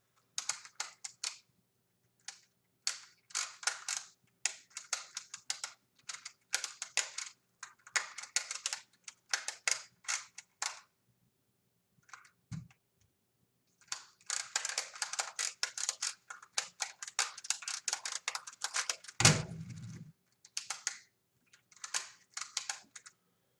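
An Angstrom Temporus Clock puzzle is turned rapidly during speed solves, making close, dry plastic clicks and clacks in fast irregular bursts with short pauses, plus one louder knock near the end; no one speaks.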